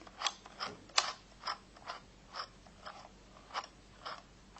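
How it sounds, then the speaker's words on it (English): A small mini sewing machine making a stitch gives a run of light, regular mechanical clicks and ratcheting ticks, close up and quiet, with no talk. "Make 1 more stitch."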